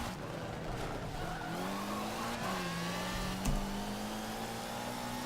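Race cars in Forza 7, a V8 car and a Viper, grinding against a wall and each other, with engine drone shifting pitch, a sharp impact and tire noise, heard alone.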